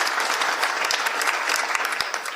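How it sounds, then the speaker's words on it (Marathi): Audience at a kirtan gathering during a village Akhand Harinam Saptah breaks into loud, dense applause of many hands, sustained and close for the whole stretch. "टाळी वाजवा एक बार जोऱ्या."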